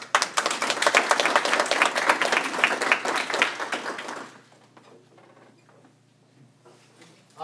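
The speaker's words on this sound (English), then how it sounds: "give them a big round of applause" An audience at an evening question session gives a round of applause, loud and dense for about four seconds before quickly dying away to a few scattered claps and quiet room noise.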